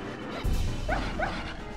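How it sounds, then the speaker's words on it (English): A dog whimpers and gives a few short yaps, close by and moderately loud, with no talk over it. "Not sad dog noises."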